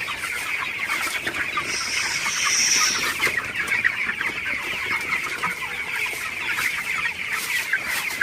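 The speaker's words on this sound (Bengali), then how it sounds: "প্রচুর গরম, তো মুরগিগুলা গরমে হাঁপাইতেছে।" A flock of 24-day-old broiler chickens clucks steadily on a hot night, producing a continuous, fairly close murmur of overlapping calls with no speech.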